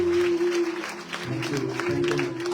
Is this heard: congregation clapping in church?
yes